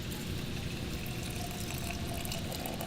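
Hot water pouring steadily over coffee grounds in a pour-over brewer, a continuous soft trickling rush at low level, even and unbroken with no voices.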